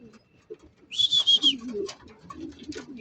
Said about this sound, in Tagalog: kompleto na yung kalapati natin